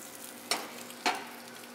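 Green beans sizzle in a hot pan on the heat, with two quick bursts of louder frying hiss as they are tossed over a steady low crackle, no one speaking.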